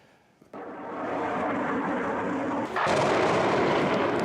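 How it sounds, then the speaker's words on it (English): An army airstrike blasts the administration building in the centre of Lugansk, eastern Ukraine: a sudden loud explosion roars in, then a second, heavier surge of rumbling blast noise follows about two seconds later. The recording is distant and rough. "the moment an army airstrike hit the centre of the eastern Ukrainian city of Lugansk"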